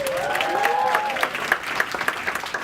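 Crowd at a TV festival event applauds an introduced studio executive, continuous clapping with a short cheering voice early on, even and full throughout.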